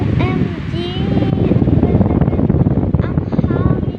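Steady wind buffets an outdoor microphone in a loud, continuous rush, with people talking over it throughout.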